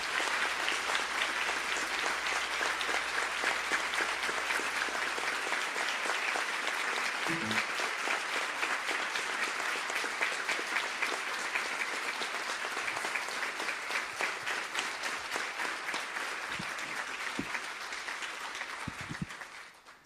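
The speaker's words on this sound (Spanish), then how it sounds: "lo que voy a pedir es que todos demos un aplauso para celebrar esa existencia de Nelson" A room full of people applauds in honour of Nelson Mandela at a savings-groups panel forum, a steady dense wash of clapping sustained for about twenty seconds and slowly thinning toward the end, with no talk over it.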